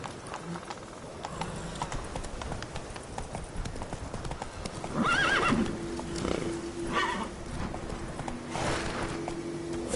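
A horse in the video game Witcher 3 Wild Hunt running, quick hoof clip-clops throughout with a loud neigh midway and game ambience around it.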